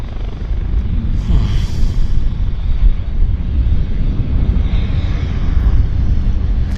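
Aircraft taking off from a runway at Vancouver Airport, a steady loud engine roar close by, broadband and continuous throughout with some wind buffeting.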